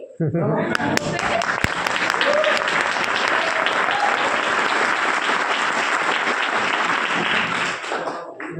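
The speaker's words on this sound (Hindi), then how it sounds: "अपने लिए जोरदार ताली बजा लो" Loud, sustained applause from a crowd, dense clapping that fills the whole stretch and tapers off slightly at the end.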